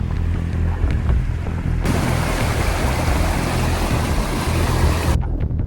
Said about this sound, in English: Pulling these kayaks up these insane rapids